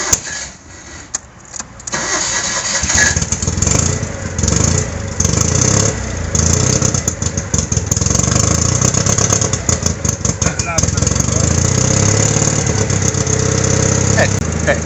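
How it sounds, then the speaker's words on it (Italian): A car engine over 40 years old, unused for a month, turns over and settles into a steady, loud idle, rumbling evenly close by with slight irregular sputters throughout. "Senti come gira al minimo"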